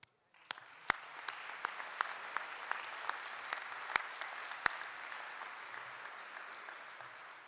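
An audience at a 2023 Kansas City Hall of Fame enshrinement gives the inductees steady, moderately distant applause, with a few sharper individual claps standing out.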